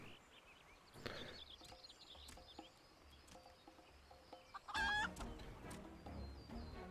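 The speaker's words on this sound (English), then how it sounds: "Look, it's a chicken." A chicken clucks in Final Fantasy XIV during the Hatching Tide seasonal event, with scattered short clucks and a louder squawking burst midway over quiet game ambience.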